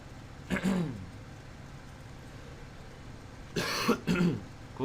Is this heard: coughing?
yes